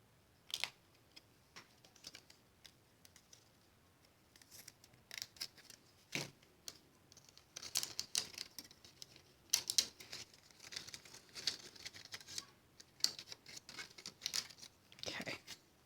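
A paper piercer punches small holes in paper and cardstock for card making, giving sharp, quiet clicks and taps in irregular bursts with pauses between them.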